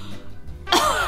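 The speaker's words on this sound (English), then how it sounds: "he can't just cough. He has to go." A man lets out a single exaggerated cough, a short throat-clearing rumble building into a loud, harsh burst close to the microphone.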